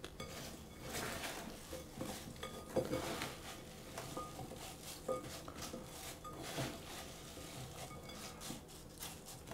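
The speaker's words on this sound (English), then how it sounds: "I'm going to toss the apples" Apples tossed in a bowl for a Dutch apple pie filling, a steady soft clatter and rustle of fruit pieces shifting against the bowl with a few sharper knocks, close and continuous with no talking.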